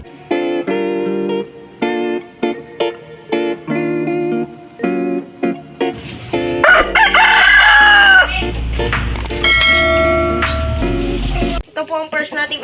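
Chickens cluck in short bursts in a backyard coop before a rooster crows loudly and close by in a long strained call, with more clucking and a voice speaking among the birds.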